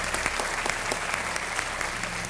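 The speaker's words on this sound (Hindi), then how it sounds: "एक बार फिर चारू शर्मा जी के लिए तालियां।" A television quiz-show studio audience applauding presenter Charu Sharma, a dense, even burst of clapping from many hands, loud and close throughout the short stretch, with no speech over it.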